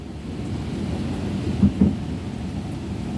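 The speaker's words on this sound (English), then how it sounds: "Oh, it's coming down harder again. It's a good rain shower." Heavy rain shower pouring steadily outdoors, with two short nearby thunder cracks just after the midpoint over the constant hiss of falling rain.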